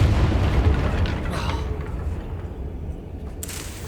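A Confringo spell explosion in the game Hogwarts Legacy: a deep rumbling boom that decays slowly, followed later by a brief crackling burst.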